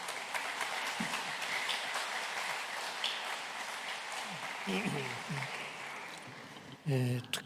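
Audience applause welcoming a pastor to the stage at a church service marking the 81st Liberation Day, a steady broadband clapping wash throughout, with murmuring voices and a brief louder burst near the end.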